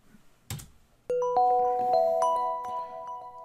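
A Windows toast notification set to alarm mode plays a bright chime of layered, sustained bell-like tones that ring on after a short click at the start, loud and close.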